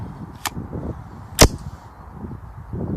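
The bolt of a Smith & Wesson M&P 15-22 rifle, an AR-15-style .22, is pulled back with a sharp metallic snap, preceded by a fainter click, against quiet background rustle.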